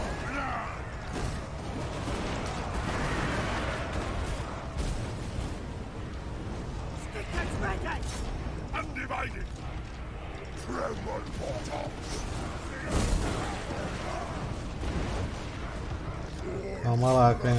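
Cannon fire in the video game Total War: Warhammer 2, with Chaos Dwarfs defending against orcs: scattered booms and mechanical clanks and creaks in a busy battle mix, at a moderate level.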